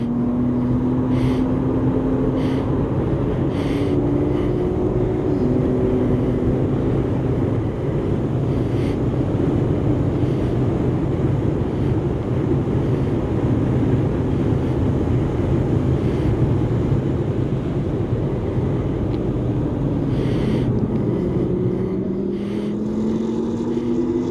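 A Camaro race car drives a track at speed, its engine droning loud and steady with rising and falling pitch as it shifts, heavy wind buffeting throughout.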